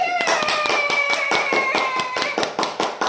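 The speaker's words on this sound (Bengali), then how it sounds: "হাততালি দাও সবাই" Group clapping at a child's third birthday party, a steady rapid run of sharp close handclaps for about three seconds, with a faint sung melody underneath.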